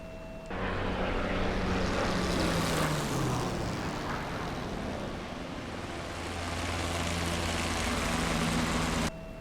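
Piston engine of a P-51 Mustang in the DCS flight simulator, throttle cut back, droning steadily and loudly with a low propeller hum that falls in pitch as power drops, then holds a continuous roar.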